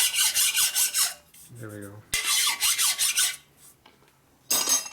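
A hand file rasps back and forth deburring a metal part on a 1972 Harley-Davidson XL Ironhead Sportster, loud rhythmic strokes in quick bursts with pauses, close up, and someone speaks briefly.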